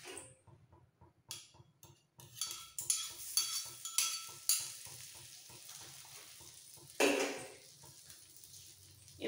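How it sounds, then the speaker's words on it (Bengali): Butter sizzles on a hot tawa griddle for frying pav, a soft steady hiss under a regular ticking and light metal scraping, with a few louder stirring clatters. "তাওয়া গরম হয়ে গেছে, এর মধ্যে দিয়ে দিচ্ছি 1 চামচ 1-2 চামচ বাটার"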